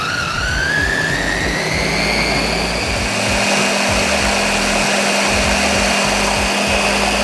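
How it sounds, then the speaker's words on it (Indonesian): Electric blender running steadily while blending Indonesian steamed cake batter (kue mangkok) with sugar, a loud continuous motor whir with a rising whine that settles into a constant drone throughout. "Biar nggak capek nguleninnya, di blender halus, hasilnya juga lebih halus."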